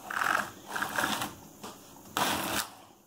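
A Superba knitting machine knits full needle rib, the carriage sweeping across in a few rasping, clattering passes with brief pauses between strokes, fairly close and moderately loud.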